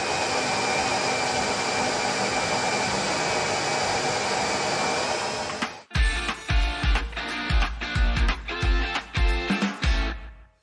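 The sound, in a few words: drill boring holes into a kitchen countertop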